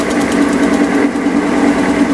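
A metallographic metal sample being sanded on a high-speed rotating grinding wheel with plenty of water, a steady whirring motor hum with a constant gritty abrasive hiss.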